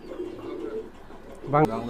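Low pigeon cooing amid background chatter, ending with a louder, sharper bird call near the end.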